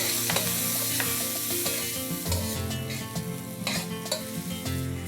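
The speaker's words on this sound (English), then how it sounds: "Saute this till it becomes nice and golden." Finely chopped onions sautéing in a few tablespoons of hot oil, a continuous busy sizzle and crackle broken by regular scraping and clinking of a spatula against the pan, with no talking.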